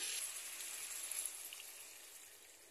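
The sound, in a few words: pouring water into chili curry in a pan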